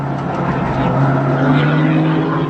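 A Britcar race car, a Golf TDI or Audi TT TFSI, sweeps through Luffield corner at Silverstone GP with a steady, droning engine note held at a constant loud level throughout the short pass.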